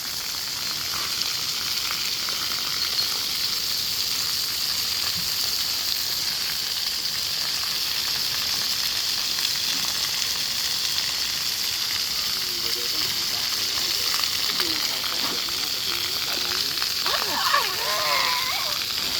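A continuous hiss of spraying water from a newly built shower at an elephant camp, where a baby elephant plays in it, with faint splashes and someone talking over the steady rush.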